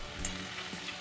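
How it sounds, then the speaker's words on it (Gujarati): A steady, faint crackle and hiss of potato chips frying in hot oil, continuous and even throughout. "ચાલો તળવાનું ચાલુ કરીએ।"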